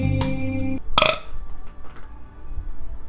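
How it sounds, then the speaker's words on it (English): A single loud, close burp erupts after a short low sound at the start, rumbling briefly before fading into quiet room background with no talking. "Why the fuck did you burp?"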